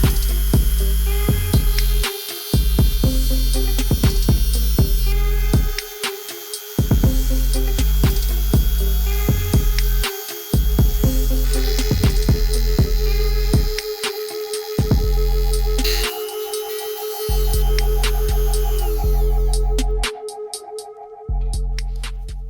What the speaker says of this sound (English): Turn on the rotary tool and then gently drive it in between the teeth.